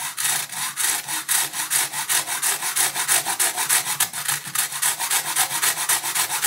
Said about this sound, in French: Simplement avec cette fois-ci une scie.